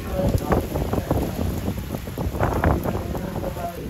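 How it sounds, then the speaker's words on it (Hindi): Heavy storm rain pours steadily, with dense patter and splashing on nearby surfaces and gusty wind buffeting the microphone, water coming indoors. "पानी सारा बारिश का वेखो अंदर ही आई जा रहा है"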